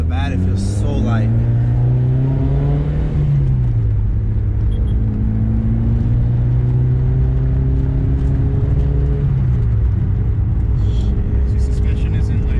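A 2006 Mitsubishi Lancer Evolution on the move, its engine note a steady low drone with rising and falling harmonics as it pulls through the gears, heard from inside the cabin with constant road rumble underneath.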